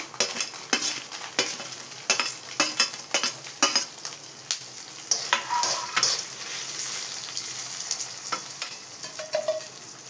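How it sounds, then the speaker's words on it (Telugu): Fenugreek seeds and dried red chillies fry in oil for gongura pachadi, with a rhythmic series of sharp stirring scrapes over a continuous sizzle that grows smoother toward the end. "వీటిని బ్రౌన్ కలర్ వచ్చేలాగా వేయించుకోవాలి."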